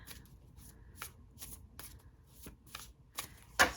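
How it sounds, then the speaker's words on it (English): Tarot cards being shuffled up close, a series of separate soft riffles and slaps spaced about every half second, ending in one sharper snap, quiet and without talk. "I'm going to pull some tarot cards"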